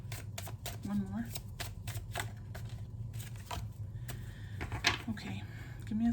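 Tarot cards riffle and snap in a run of quick, crisp shuffles close to the microphone, repeated several times over a low background hum.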